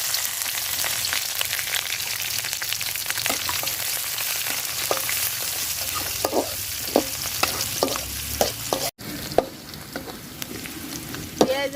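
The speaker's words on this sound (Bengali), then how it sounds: "পেঁয়াজ আর রসুন লাল লাল করে ভাজা নিচ্ছি" Chopped onion, garlic and chilli sizzle steadily in hot oil with bay leaf and cardamom, while a spoon stirs and scrapes the pan in repeated close clacks, no voices present.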